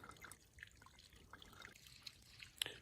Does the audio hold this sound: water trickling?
yes